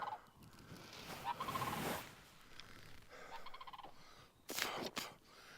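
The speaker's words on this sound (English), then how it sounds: "That was a sandhill crane that just flew over." A sandhill crane calls while flying overhead, its rolling, bugling cries coming in a few loud bursts outdoors against light background noise.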